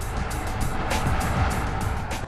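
The twin-turbo engine of a BMW 5 Series driving on the road gives a loud, continuous roar blended with tire and wind noise, with no voices.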